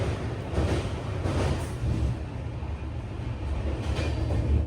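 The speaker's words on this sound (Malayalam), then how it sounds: "133 കിലോമീറ്റർ യാത്ര ചെയ്ത് ട്രെയിൻ ഇപ്പോൾ ഇതാ വെസ്റ്റ് ബംഗാളിലെ തന്നെ ഹാഷിമാറ റെയിൽവേ സ്റ്റേഷനിലേക്ക് എത്തുകയാണ്" A tourist train with a Vistadome coach rolls into Hasimara railway station in West Bengal, a steady loud rumble of wheels and carriage noise with faint rhythmic clatter, continuous and close, with no talking.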